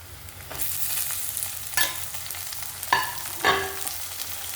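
Tomatoes drop into a simmering dried fish curry with banana and brinjal, giving a steady bubbling hiss broken by several sharp stirring scrapes and sizzles, with no one talking.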